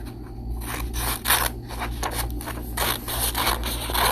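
Scissors snip through paper in repeated crisp cuts with soft rustling between strokes, close by.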